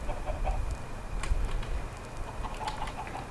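Short, sparse clucks from Minecraft chickens in a video game, faint and intermittent over a constant low hum, no voices.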